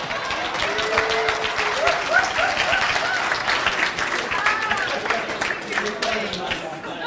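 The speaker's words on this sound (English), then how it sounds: "Give him a round of applause." A live stage show audience breaks into loud, sustained applause with scattered cheers and whoops rising over the clapping, a dense crackle that holds for several seconds.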